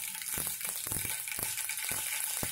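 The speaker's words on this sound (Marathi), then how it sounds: "आता आपण 1/2 चमचा जिरे घालून घेऊया।" Half a spoon of cumin seeds hits hot oil in a pan along with mustard seeds, making a faint steady sizzle and crackle with scattered popping ticks and no talk.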